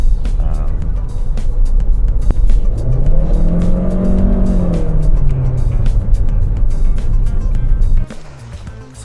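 A Chery Tiggo 4 Pro engine accelerates through a gear, its note rising and then falling steadily over several seconds beneath road and cabin noise, then dropping off sharply near the end while a person talks.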